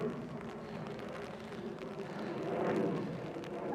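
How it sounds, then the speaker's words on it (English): Airplane passing overhead near Manchester Airport, heard outdoors in a garden as a steady low roar that swells toward the end, continuous and fairly loud with no talking. "Apologies for the noise of the plane"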